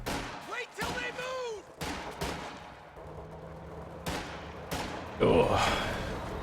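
Rifle squads open fire in a Company of Heroes 2 multiplayer battle, sharp scattered gunshots and bursts at mid distance, with other game sounds between them.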